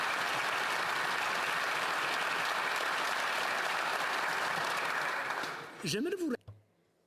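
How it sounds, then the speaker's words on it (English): Members of Canada's House of Commons give a sustained round of applause that fills the chamber for about six seconds, then cuts off abruptly with a brief electronic tone. "let's give them a round of applause"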